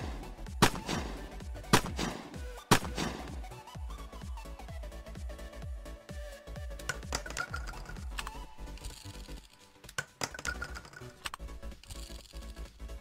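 A revolver in the video game Unturned fires a series of sharp, punchy gunshots spaced a second or so apart, mixed with clicking handling and mechanical sounds over a busy game backdrop, with no talking.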